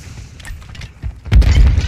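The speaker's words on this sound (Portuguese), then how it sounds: "Mandando granada de concussão." A concussion grenade goes off in a shooter video game, a single heavy boom that lands after a stretch of quieter game noise, loud and close.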